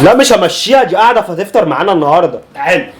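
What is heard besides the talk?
None of the usual background noises is heard.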